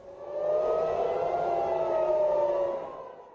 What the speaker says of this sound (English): sirens warn of a barrage of incoming Iranian missiles